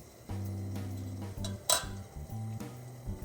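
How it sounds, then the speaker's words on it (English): A metal strainer set down on top of a cooking pot, giving a short metallic clink and clatter against steady low background music. "Place a strainer on top."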